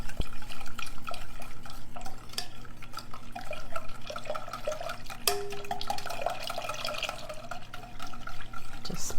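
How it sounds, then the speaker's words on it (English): Carnation evaporated milk pours into a bowl while a whisk stirs it into a chocolate coconut pie filling, giving steady liquid splashing and light clinking close by, with no talk. "Just pouring the milk in, whisking it around"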